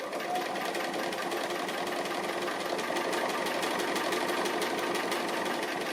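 Sewing machine stitching fabric appliqué along a stripe, a steady fast mechanical whir and needle chatter running continuously and close with no pauses.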